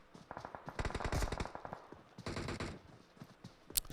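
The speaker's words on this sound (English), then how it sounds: "Shots all around." Bursts of automatic gunfire and single shots crackle through a battle royale video game match, loud and dense at first, then fading into scattered shots with a sharp crack at the end.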